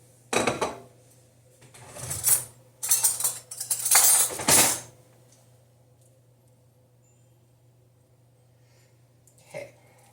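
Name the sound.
grabbing a spoon, cutlery clinking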